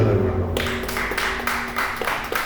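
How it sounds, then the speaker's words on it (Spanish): Congregation at a Sunday church service breaking into applause, rhythmic unified clapping beats entering after a brief pause and continuing steadily over a faint sustained tone. "Denle un aplauso al Señor, hermano."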